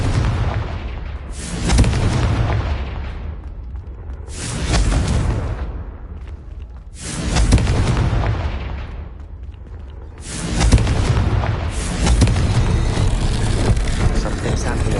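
Booming blasts from the Confringo blasting spell in the video game Hogwarts Legacy, four loud explosive surges spaced a few seconds apart, each with a rumbling tail.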